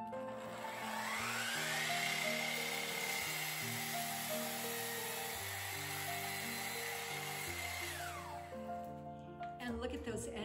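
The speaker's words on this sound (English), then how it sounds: "And now I just trim off the excess at the end of the boards." Power tool whining steadily as it trims excess off the ends of boards for a wall hook shelf, a sustained high drone lasting several seconds before winding down, with a humming background underneath.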